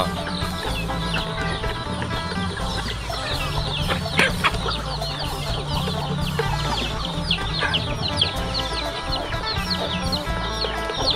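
Fighting cocks cluck steadily at a rural Thai farmyard where chickens and fish are raised, a busy overlapping flock close by with occasional louder squawks throughout.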